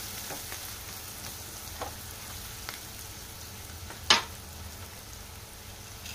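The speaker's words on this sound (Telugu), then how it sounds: "కొద్దిగా కరివేపాకు, 1/2 టీ స్పూన్ పసుపు వేసుకొని కలుపుకోవాలి ఒకసారి." Curry leaves and turmeric stirred into hot oil in a pan for cabbage fry, giving a quiet, steady sizzle with a few soft stirring scrapes and one sharper clack near the end, no voices.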